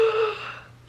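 A voice imitating a baby gasping for breath, a single sharp inhaled gasp trailing off into a fainter breathy rasp, close and brief.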